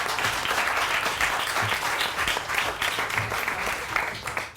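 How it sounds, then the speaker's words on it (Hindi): A studio audience on a Samaa TV morning show claps loudly and continuously for a few seconds, a dense steady patter of many hands. "बहुत सारी तालियां बजाएं।"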